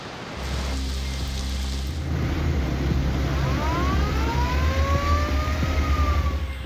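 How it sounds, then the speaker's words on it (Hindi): Heavy monsoon rain pours in Sindh, Pakistan, a dense, loud, continuous hiss with a deep rumble beneath and a faint siren-like wail rising and falling in the background. "हैदराबाद, बदीन, ठट्टा समेत अंदरूने सिंध में भी बादल जमकर बरसे।"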